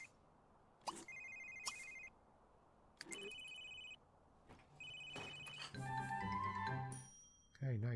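A cell phone rings in The Sims 3, a game ringtone in repeated short melodic bursts with pauses between, fairly close and clear, ending in a longer warbling chime.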